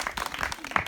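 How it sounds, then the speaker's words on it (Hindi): A group of children clap together for their guru ji at a cow shelter gathering, a brief scattered burst of applause mixed with faint voices. "गुरु जी के लिए ताली बजाओ जरा एक जगह।"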